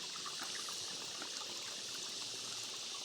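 Water flows in a stream in a steady, hissing rush with no breaks, close by and unchanging in level, with no voices.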